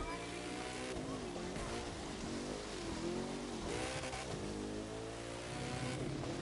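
A Koenigsegg supercar's engine roars steadily on a frozen ice track in the video game The Crew 2, with constant high revs and gear-change dips throughout, loud and continuous with no talk.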